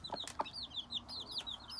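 Chicks peep rapidly and steadily in high chirps while a hen clucks low a couple of times, all close and moderately faint as they feed on grain.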